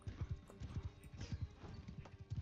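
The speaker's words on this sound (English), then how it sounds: "Ooh, hit the horse, Jack." Horse hooves clip-clop in a quick, steady galloping rhythm during a Bannerlord battle, fairly faint and distant, with no clear neigh.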